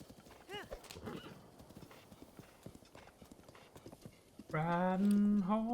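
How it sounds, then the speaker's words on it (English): Horse hooves clip-clop at a gallop in the video game The Legend of Zelda: Breath of the Wild, a rapid rhythmic patter that ends in a loud, close neigh and whinny. "Riding horses."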